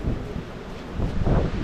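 Strong wind gusts at a rainy seaside, rumbling and buffeting the microphone in heavy bursts that swell louder toward the end, with no voices.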